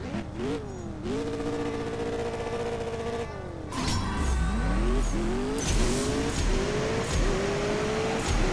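A Hennessey Venom F5 with a stage 5 tune races in CSR Racing 2, its engine revving hard and climbing through repeated gear shifts, with a louder surge partway through as each rising rev sweep repeats.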